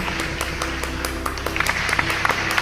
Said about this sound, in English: clap loudly for all the parents and grandparents and family members watching this presentation